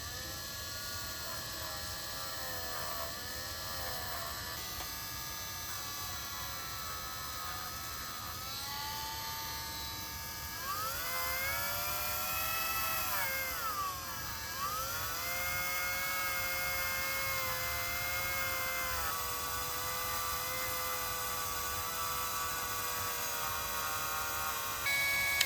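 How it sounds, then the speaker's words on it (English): Dremel rotary tool grinding and cleaning crusty ignition points from a Farmall H tractor's Delco distributor, a steady high-pitched whine that shifts in pitch as the tool presses against the metal, continuous and close with no talk. "So we get out the Dremel."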